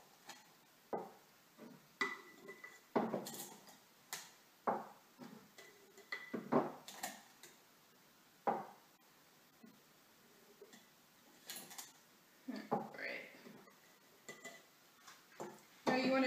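Dry white cookie mix is scooped into a jar with a measuring cup, giving scattered light clinks, scrapes and soft pours at close range, separated by short quiet gaps.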